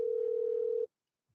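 A telephone dial tone sounds steady and clear after the other party hangs up on a call, lasting under a second before cutting to silence.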